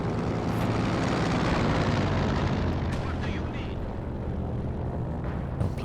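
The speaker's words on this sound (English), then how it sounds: "Plane's still up in the air, should be still running." In the strategy game Company of Heroes 2, a dense, loud rumble fills the battlefield, with an aircraft drone blended into continuous explosions and gunfire, and faint talk running underneath.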